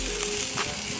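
Meat sizzles steadily on a tabletop charcoal grill fired with Kingsford Professional briquettes, a close, continuous crackling hiss with no talk over it.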